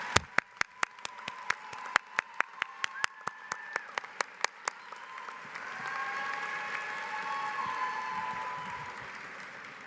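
Audience applause at a university commencement ceremony: sharp individual claps ring out at first, then swell into a broad, sustained wash of clapping from a large crowd.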